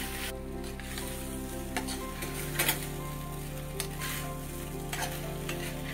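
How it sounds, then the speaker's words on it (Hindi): Paneer is tossed with spices in a hot pan, giving a constant sizzle over a low steady hum, punctuated by repeated spatula taps and scrapes against the metal. "अच्छे से इसको मिक्स करेंगे। इससे पनीर के ऊपर सारी स्पाइसेस, सारे मसाला कोट हो जाए अच्छे से।"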